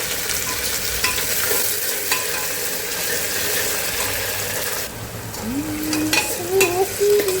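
A large chopped onion fries in oil with bay leaf, green chilli, cumin and cinnamon for masale bhaat, giving a loud steady sizzle with stirring scrapes, joined near the end by a brief rising whine-like tone.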